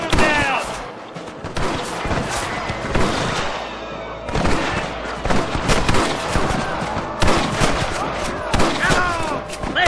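Video game gunfire in Red Dead Redemption, a dense battle of rapid rifle and pistol shots and booming impacts cracking out continuously, with shouted voices mixed into the clamor.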